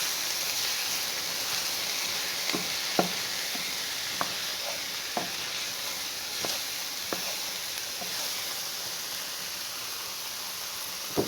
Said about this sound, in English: We'll get the onions in there with the mushrooms and we'll get them all fried off.